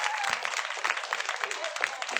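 A group of children claps together in a room, a quick, fairly soft patter of hands with overlapping voices and some talking mixed in.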